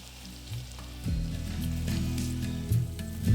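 Onions hit hot oil and ghee already seasoned with bay leaves and shahi jeera, bursting into a loud close sizzle that continues steadily with a few stirring scrapes for mutton yakhni pulao.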